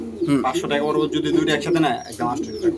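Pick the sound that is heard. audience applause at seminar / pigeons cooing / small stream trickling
pigeons cooing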